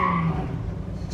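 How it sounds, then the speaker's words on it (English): A muscle car doing a standing burnout at 40% throttle, its engine roaring loud and close with a steady low rumble and strained revs that taper off after the first moment. "And that was a pretty good standing burnout"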